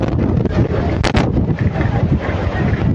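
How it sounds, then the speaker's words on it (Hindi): Strong stormy wind blows through Solan during a weather change with rain and flying dust, a steady roaring buffet on the microphone with a couple of sharper gusty bursts near the middle. "तेज़ हवाएं आप देख सकते हैं कि किस तरह की तेज़ हवाएं सोलन में इस वक्त चली हुई है"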